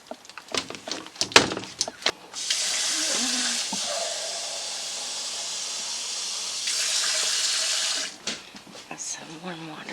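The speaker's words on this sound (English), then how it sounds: "Some warm water." Warm water splashes and streams steadily onto a frozen-shut door during winter storm weather, a continuous hissing pour lasting several seconds after some clattering handling noises and brief voices.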